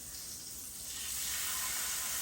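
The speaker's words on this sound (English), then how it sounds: "You can hear that sizzle." Pieces of food for Honduran tapado frying in a hot pan, a soft, steady sizzle and hiss that swells louder partway through, heard alone and close.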